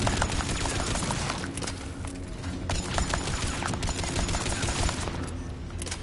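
Rapid gunfire rattles through a firefight in the video game Mass Effect, a loud, dense, continuous burst of shots that fills the whole stretch.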